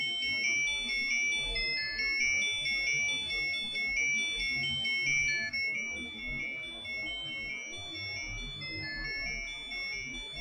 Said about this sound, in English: My alarm went off on my phone, or on my watch.